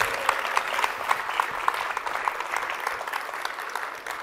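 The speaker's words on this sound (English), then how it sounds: "Round of applause for the judges." Audience applause greets judges walking onstage at a live Web3 pitch competition, a dense, steady clapping with a few sharper individual claps standing out near the front.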